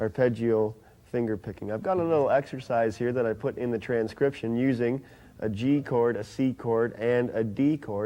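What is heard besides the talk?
No everyday noises stand out.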